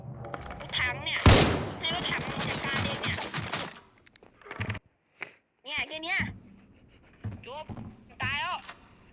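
Gunfire in the online shooter Arena Breakout crackles in a dense burst of rapid shots, then fades into sparse game sounds while players talk over it.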